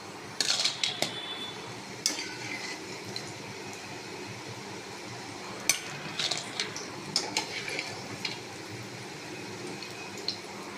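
Fried lentil dumplings (bori) lifted from the pan into a bowl with a utensil, heard as scattered metallic clinks and scrapes over a low background hum, with a few sharper knocks spread through the stretch.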